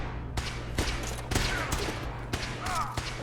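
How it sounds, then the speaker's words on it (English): Video game gunfire in a fight against ghouls, a series of sharp, loud shots spaced irregularly about every half second, with a brief voice heard faintly between them. "Let me shoot you."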